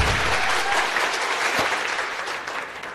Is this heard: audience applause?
yes